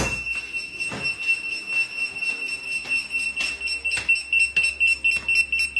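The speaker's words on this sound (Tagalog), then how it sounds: "magsisitunog na yung lahat ng susi na connected sa kanya" Key finder tags attached to keys sound an alarm triggered from a phone app, a steady high electronic tone with repeated sharp beeps and clicks, fairly faint and close.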